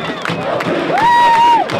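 Corinthians football fans in a stadium crowd, a dense roar of cheering and shouting voices with a sustained whistle-like tone rising and holding in the middle, loud and continuous throughout.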